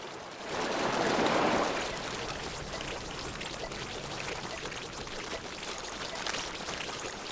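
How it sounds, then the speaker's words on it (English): Waves crash in a video game scene, a soft wash that swells early then settles into a steady surf-like hiss, fairly faint and heard alone. "Hearing waves crashing in the background."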